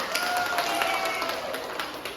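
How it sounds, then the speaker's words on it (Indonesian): Classroom applause from fifth-grade pupils for a student group during a teaching simulation, a steady patter of many hands clapping at moderate volume throughout. "Tepuk tangan kasih aplaus buat kelompok hebat."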